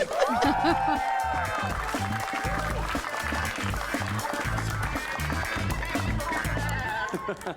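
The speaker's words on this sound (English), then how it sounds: "Please give a huge round of applause to Karnesh Talwar" Studio audience applause at a comedy game show, sustained clapping through the whole stretch while music with a strong beat plays and scattered laughter rises underneath.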